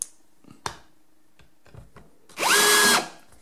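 A Bosch AdvancedImpact 18 cordless impact drill in screwdriving mode, after a few soft handling clicks, whirs up in one short, loud burst as it drives a screw, rising in pitch, then stops.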